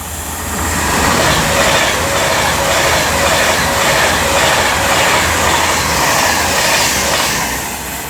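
A Pendolino electric train rushes through a West Coast Main Line station at Marston Green, a loud, steady roar of wheels and air that swells and holds for several seconds before easing.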